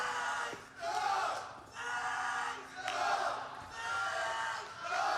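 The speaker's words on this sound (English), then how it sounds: "Crowd finally awaking." Arena crowd at a CS:GO grand final between Astralis and FaZe on Inferno at IEM Katowice 2017, cheering and roaring in repeated loud surges, a broad wash of voices rising and falling in waves.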